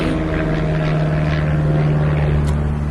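Propeller airplanes droning overhead in a steady, loud, continuous hum with a low engine tone, filling the outdoor air without pause on a busy spring day.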